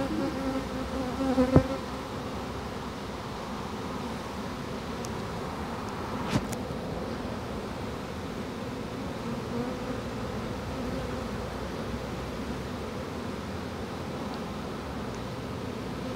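A honeybee swarm being captured gives a steady, dense buzz that fills the whole stretch, close and even, with a couple of brief knocks near the start and no voices.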